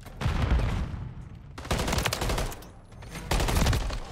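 Bursts of rifle fire from an MCW in Call of Duty: Modern Warfare III ranked play: three loud volleys of rapid shots with brief lulls between them, no voices over them.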